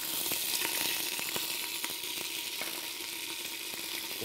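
Tomato paste fries in about a quarter cup of hot oil, giving a steady, close hiss and crackle with faint scraping and stirring clicks throughout, and no voices.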